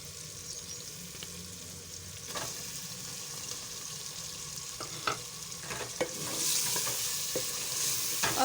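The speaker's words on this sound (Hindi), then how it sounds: "अब इसमें हम गोश्त शामिल करेंगे।" Small pieces of chicken meat go into softened tomatoes in a cooking pot for a chicken mash dal, giving a steady sizzle of frying with scattered spoon scrapes and stirring clinks, growing slightly louder toward the end.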